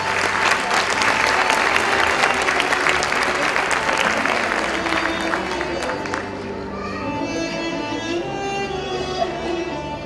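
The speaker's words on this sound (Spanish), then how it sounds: "le brindamos nuevamente un fuerte aplauso" A crowd at a school graduation ceremony applauds loudly and densely for about six seconds, with murmuring voices mixed in. The clapping then thins into lighter scattered claps and chatter.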